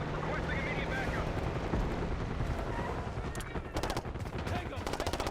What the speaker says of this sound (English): Got gunfire to the right.